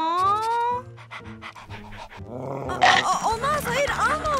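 A dog pants rapidly and gives low growls up close, mixed with a high voice and other voices talking in a Barbie cartoon scene.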